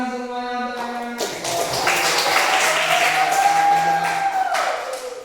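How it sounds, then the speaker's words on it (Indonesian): A classroom group applauds during a coding lesson, a burst of scattered hand claps that starts sharply after a short musical tone and continues steadily, close and loud, for several seconds. "tepuk tangan semuanya"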